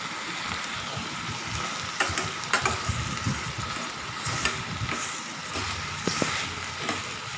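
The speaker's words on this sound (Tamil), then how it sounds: "நல்லா நம்ம மீடியம் ஃப்ளேம்லேயே வச்சு நல்லா இந்த மாதிரி வதக்கி விட்டுக்கோங்க" Tomatoes sautéing over a medium flame in a pan for chana masala, a faint soft sizzle with occasional spatula scrapes and stirring knocks, no talking.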